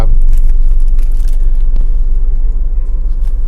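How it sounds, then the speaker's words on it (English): A Honda Accord with an F22 engine idles with the air conditioning running on a hot day, a steady low rumble close by and loud, with a few light mechanical ticks and no talk. "so it idles perfectly fine even with the AC on"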